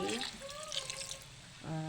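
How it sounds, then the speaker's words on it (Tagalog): Water is poured into a pot of adobong chicken feet, a soft running, trickling splash close by that lasts about a second and a half, with brief talking at the start and end. "dagdagan natin po ng tubig."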